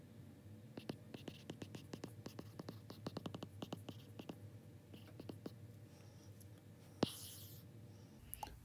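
Handwriting during a calculus lesson on sigma notation: a quiet run of quick scratchy pen or marker strokes in irregular bursts, with one sharper tap near the end, faint and close.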